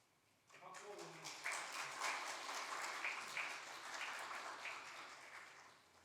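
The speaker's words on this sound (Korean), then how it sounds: "박수." A church congregation applauding during a Sunday service, with dense clapping that starts abruptly after a brief voice and holds at an even level for several seconds, with some voices mixed in.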